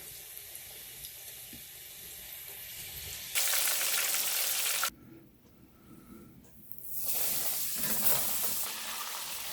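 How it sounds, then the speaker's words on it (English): Breaded fish dropped into hot lard and given a stir: a steady frying sizzle that surges loud as the pieces go in, dips briefly, then swells again, with no voices. "Bring it over and just dump it in our lard. Give it a little stir, make sure nothing sticks together."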